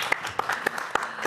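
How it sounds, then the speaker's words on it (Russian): A studio audience at a televised business evening show in Gomel claps briefly, a short burst of scattered, fairly close handclaps with no talking. "Я думаю, что это напутствие достойно аплодисментов."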